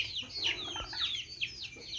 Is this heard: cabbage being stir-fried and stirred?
no